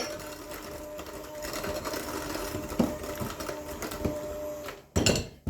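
A mixer whirring steadily as eggs are beaten into oatmeal raisin cookie dough, a close continuous motor hum with a brief stop and restart near the end.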